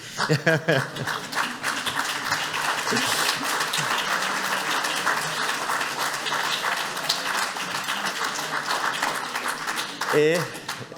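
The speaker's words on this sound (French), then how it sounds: "merci pour vos applaudissements" An audience applauds a French minister at an annual meeting, sustained clapping from many hands that runs for several seconds, with a voice speaking at the start and end.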